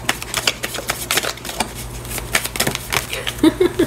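Tarot cards handled on a table, a card drawn and laid down, with soft rapid papery flicks and light taps close by, a brief murmur of voice near the end.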